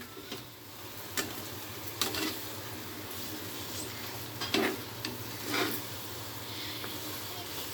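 Vermicelli (semai) being stirred in a pan with ghee, sugar and milk powder, soft scraping strokes at irregular intervals over a faint sizzle and low background hum, close but quiet.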